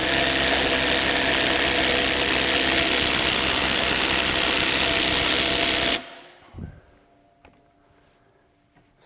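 A RIDGID 18-volt sub-compact brushless 3/8-inch impact wrench tightening a bolt, a loud continuous hammering whir lasting about six seconds before stopping, followed by faint handling clicks.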